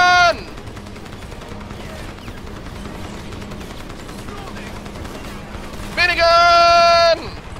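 Minigun fire in the video game Crysis, two short loud bursts of rapid shooting with a high whining spin, separated by quieter game ambience and some voice.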